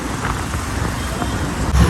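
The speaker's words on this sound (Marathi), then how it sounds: "लय ट्रॅफिक राहू पुण्यात, लय बेकार राहू." Road traffic in central Pune near Shaniwar Wada makes a steady rumble of cars and other vehicles passing nearby, with a brief louder thump toward the end.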